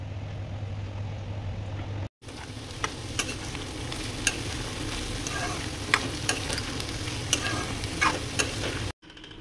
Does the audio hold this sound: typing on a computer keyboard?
no